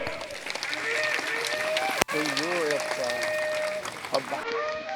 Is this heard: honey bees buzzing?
no